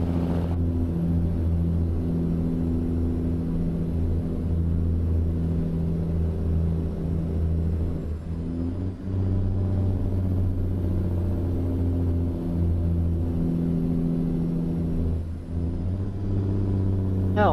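Freightliner FLD truck hauling a heavy dry bulk tanker load in the video game American Truck Simulator, a steady, deep diesel engine drone laboring in seventh gear, with brief dips around the middle, continuous and close.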